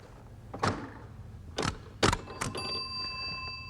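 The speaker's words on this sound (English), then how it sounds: "And the bell told you you'd done it." Bell on a Hollerith census tabulator ringing as a count registers: a few sharp mechanical clunks followed by a clear ringing tone that lingers and fades, fairly close with no talk.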